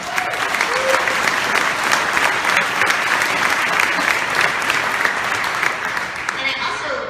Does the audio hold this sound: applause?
yes